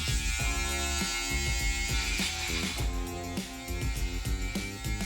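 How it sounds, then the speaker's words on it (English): Beard trimmer without a guard shaping the edge of a beard, a steady close electric buzz that holds throughout, its pitch and strength wavering slightly as the blades move along the skin. "Now I'm gonna establish the perimeter of my beard. So again, I use the trimmer without a guard."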